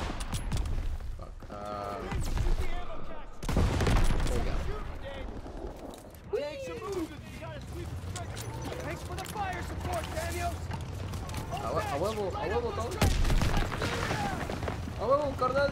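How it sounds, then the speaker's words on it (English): Gunfire and explosions from shooting an ammo cache in Call of Duty WWII, with loud booms in a busy battle mix under game voices and music. "Shoot the ammo cache."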